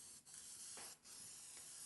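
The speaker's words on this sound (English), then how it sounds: "So I'm going to spray this on to the cast iron top, down into the miter gauge slots." Lubricant sprayed onto a cast iron table saw top and into its miter gauge slots makes a soft, continuous aerosol hiss. The hiss is broken by a few brief pauses and heard alone.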